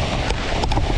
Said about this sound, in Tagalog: Lakas po ang hangin.